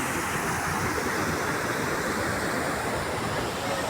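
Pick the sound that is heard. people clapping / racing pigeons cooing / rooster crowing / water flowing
water flowing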